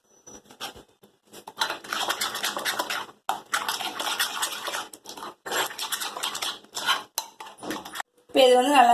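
Paneer tikka marinade being stirred in a bowl, with repeated scraping, clinking and sloshing of a spoon against the bowl, fairly close and steady with brief pauses.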